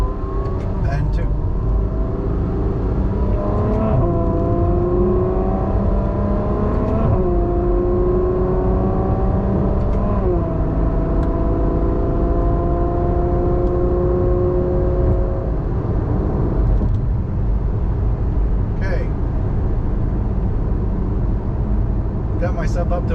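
A 2014 Ferrari F12 Berlinetta accelerates up through its gears using the paddle shifters, giving a loud, continuous engine drone with rising pitch sweeps between shifts, while a driver talks over it.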